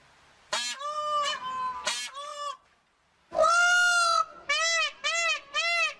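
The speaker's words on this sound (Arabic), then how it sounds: "طاووس." Loud, harsh, nasal calls of a peacock sound in a series of repeated wails, a pair of long calls followed by a longer one and three shorter bursts, clear and close with no talk.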